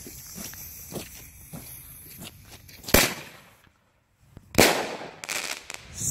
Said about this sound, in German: Defender 1 ist der mit Knall